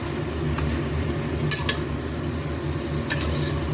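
Mutton being stir-fried as kosha in a pan for a home-style curry, a dense low sizzle with a few quick scrapes and clinks of a utensil on metal, close and continuous.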